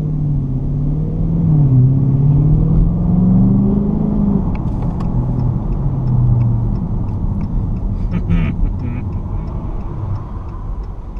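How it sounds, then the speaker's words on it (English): A 2016 Dodge Charger R/T Scat Pack with its 392 V8 rumbles loudly at a track, a deep steady drone with slow swells in pitch, heard from close by with faint clicks and knocks later on. "It sounds like it's a good rumble, like a old school carbureted V8 rumble"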